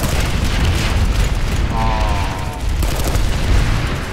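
A Prowler tank fires its cannon during a base fight in the game Planetside 2. Loud, dense booming blasts rumble with little let-up, layered with constant battle noise.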